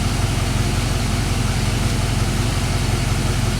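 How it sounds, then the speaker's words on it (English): A Chevy Silverado engine with a knock runs steadily, its deep, even rumble throbbing with a regular low pulse close by, and no voices. "The engine is changing the RPM, so you can see that loop."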